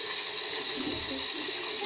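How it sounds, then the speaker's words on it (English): A tap runs steadily for handwashing, the water giving a faint, even hiss with no breaks. "Turn the water up."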